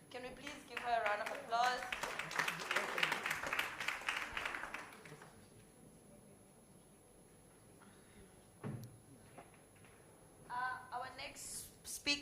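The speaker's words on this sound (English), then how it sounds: "So can we please give her a round of applause?" Audience applause at a teachers' research colloquium after a presentation, a dense burst of clapping mixed with voices for about five seconds that then fades into quiet room tone, with a brief knock and some stirring near the end.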